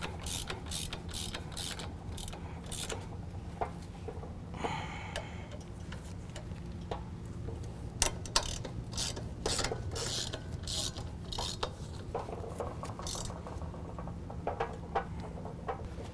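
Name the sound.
16mm ratchet tightening brake caliper bolts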